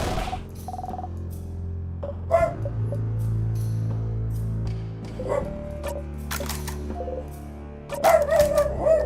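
A dog barks in the video game In Stars and Time, a few short yips and barks scattered over a steady music background, louder near the end.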